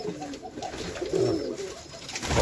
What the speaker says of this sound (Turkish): Sivas kumrusu da geliyor bir yerden ses.